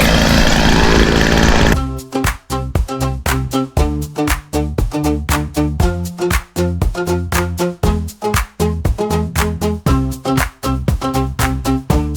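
A handheld stick grass cutter, a string trimmer, runs during a backyard cleanup: a loud, close engine drone with a fast, choppy pulsing that continues steadily for about ten seconds after a brief burst of rougher noise, with no talk.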